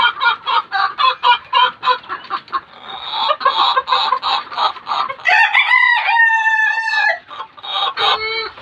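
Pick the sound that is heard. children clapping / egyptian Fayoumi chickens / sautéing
egyptian Fayoumi chickens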